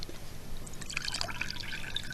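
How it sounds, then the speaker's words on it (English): Water is tipped out of a wine glass, trickling and dripping in a short burst of bright splashy droplets, close and fairly quiet. "If I tip the water out,"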